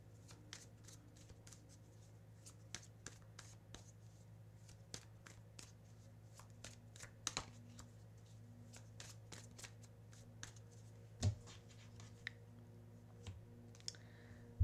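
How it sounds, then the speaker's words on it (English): Tarot cards being shuffled in a quiet room, with soft riffling and scattered light clicks of card edges throughout; no one speaks. "I'm going to end by pulling some advice and guidance cards for you."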